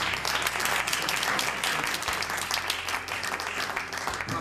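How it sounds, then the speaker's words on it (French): An audience at a televised public debate on voting rights, held in 2005, breaks into sustained, dense applause that starts out strong and then softens slightly, with many hands clapping and no speech on top. "Vous pouvez remercier les intervenants à ce débat en leur adressant une salve d'applaudissements."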